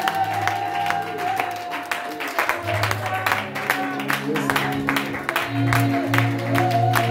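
Congregation applauding and cheering in a church service, lively clapping and crowd noise over sustained musical tones and a low background drone, steady and fairly loud throughout.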